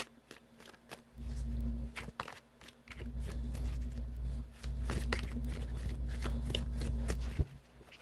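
A tarot deck is shuffled by hand in repeated riffling, papery bursts, close and fairly quiet, with a soft thud near the end.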